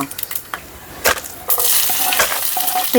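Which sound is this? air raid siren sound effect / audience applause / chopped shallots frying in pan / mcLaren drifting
chopped shallots frying in pan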